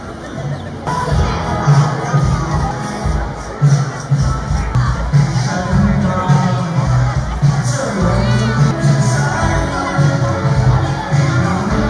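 A crowd of Muangthong United football fans gathers outside Chang Arena before a match against Buriram, a steady dense hubbub of many voices with scattered shouts and cheers, loud and continuous throughout.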